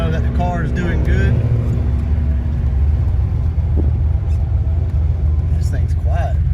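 A car engine and exhaust, recently changed from an open downpipe setup, drone with a steady low rumble throughout, running quieter than before, while people talk over it in the cabin.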